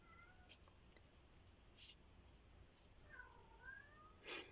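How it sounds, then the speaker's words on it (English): A pet cat named Moo Moo gives a few faint, brief meows in a quiet craft room, spaced out over soft background hiss. "here we go with the cat"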